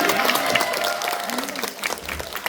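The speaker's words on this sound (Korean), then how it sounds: "네, 박수신데 감사합니다." Audience of parents and pupils applauding at an elementary school arts festival, scattered clapping with voices and a tonal sound mixed in, fading unevenly over a couple of seconds.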